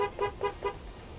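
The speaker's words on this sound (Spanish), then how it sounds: "Ahí decía, pégate un bocinazo" Three short car horn toots sound in traffic during a street protest, evenly spaced and moderately close, followed by a fading low rumble of the street.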